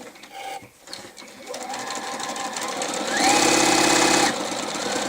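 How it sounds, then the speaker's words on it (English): A sewing machine stitching a quarter-inch quilt seam, its motor whirring up from a slow start into a fast, steady hum that peaks loudly near the end, heard close with no talk. "we're going to catch it up by sewing again a 1/4 inch seam"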